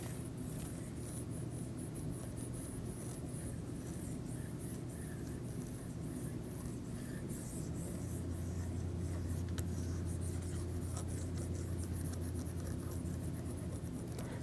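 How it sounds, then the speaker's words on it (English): Dry steady rubbing of an eraser across a lecture board, a soft continuous scratchy swish lasting several seconds with faint room noise beneath. "Now if we erase everything here"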